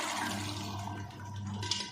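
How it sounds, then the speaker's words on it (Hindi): Boiled chickpeas tipped with their cooking water into a pot of chicken curry make a steady splashing, gurgling pour that runs nonstop for about two seconds, close and fairly quiet. "चने हम पानी समेत ही डालेंगे"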